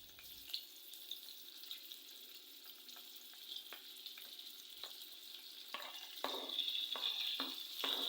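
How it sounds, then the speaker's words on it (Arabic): Pepper frying in a little oil in a pan, a steady faint sizzle with scattered soft crackles and a few louder pops toward the end. "هنايا عندي شوية ديال الزيت، غادي نشوي فيه فلفلة"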